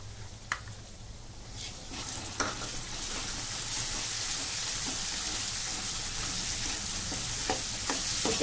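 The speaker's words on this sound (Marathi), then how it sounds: "ह्या तेलामध्ये छान फ्राय करून घ्यायचंय आपल्याला" Coriander powder and masala fry in hot oil for a spicy Marathwada umbar handi, a steady close sizzle that grows slightly louder, broken by occasional stirring scrapes.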